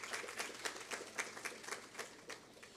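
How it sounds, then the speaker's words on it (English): A conference audience applauds with quick, scattered claps, steady and moderately distant, for about three seconds. "Give them a round of applause."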